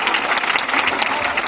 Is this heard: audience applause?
yes